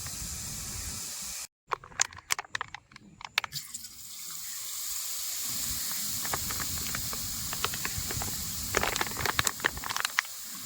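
Jhuri bhaja, a crunchy flour snack made village-style, frying in hot oil: a steady close sizzling hiss with scattered crackles and pops, cut by a brief dropout early on, then bubbling on alone.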